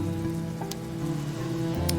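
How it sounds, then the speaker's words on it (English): Steady rain falls across a video game world, a continuous hiss over sustained low tones, with no talking. "it continues to rain more and more as you go through the world"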